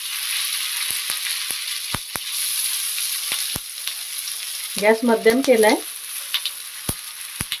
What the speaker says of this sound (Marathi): तेल गरम झालंय त्यामध्ये मी वड्या ठेव घालून घेते